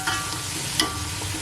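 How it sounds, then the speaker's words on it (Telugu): Onions frying for goat head curry are stirred in a pan, a soft continuous sizzle with a single brief scrape of the spoon partway through, close and fairly quiet. "ఇప్పుడు కలిపేస్తున్నాం."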